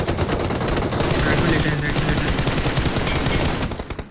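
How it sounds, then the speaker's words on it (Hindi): Heavy automatic gunfire rattles in the mobile battle royale game BGMI, loud rapid bursts overlapping continuously with no pause, easing off only briefly at the very end. "बहुत भारी गोली चल रही है"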